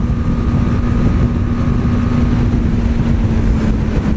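Steady, loud wind roar buffets the microphone over a low engine drone from a 2018 BMW G 310 GS motorcycle at about 110–120 km/h, continuous throughout with no voices.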